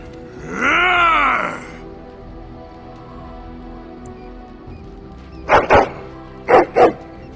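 A dog in the video game Dragon Age: Origins gives a drawn-out whining groan, then two quick pairs of sharp, loud, close barks.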